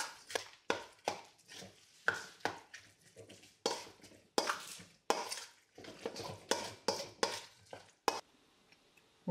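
Tomato sauce is stirred into a raw mutton meatloaf mixture in a bowl, making close, wet squelching strokes in a steady rhythm. About a dozen mixing strokes land with soft knocks against the bowl, with no voices.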